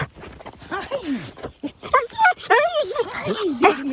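Bailey, a pet dog, whimpers and yips in excited greeting, making rising and falling high-pitched cries close by while a person talks warmly over the noise.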